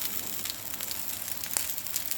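Potstickers pan frying in a shallow layer of oil, just after chicken broth is added and the sizzle is dying down; a steady, close hiss with small crackles and pops throughout, with no talking.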